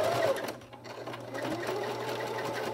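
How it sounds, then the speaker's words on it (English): A sewing machine running a long basting stitch along the edge of an 18-inch doll dress bodice, a steady close mechanical whir with a brief dip in the motor partway through, no speech. "So I'm just going to do that at a basting stitch, a number 4 in the stitch length"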